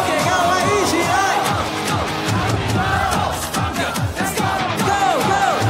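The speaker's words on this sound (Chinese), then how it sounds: "最大声的张敬德，大声喊出来哦" A stadium crowd at a Taiwanese professional baseball game loudly chants and yells a player's name, Chang Chin-te, in rhythmic unison. The roar is dense and sustained, with cheering and whoops layered over the chant.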